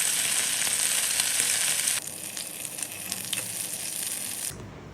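Anchovies deep frying in hot oil make a loud, continuous crackling sizzle close by, dropping a little in level after about two seconds before cutting off near the end.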